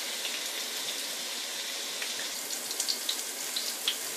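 Water pours steadily into a pan of tomato curry with cumin, a continuous hissing splash with a few faint clinks toward the end.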